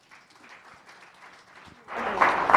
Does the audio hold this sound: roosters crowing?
no